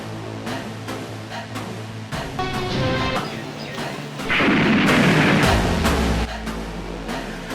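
Staged explosion effect of a flower vase bursting in an amateur action drama: a series of sharp gunfire-like cracks builds to a loud, booming blast lasting about two seconds, followed by a low rumbling tail.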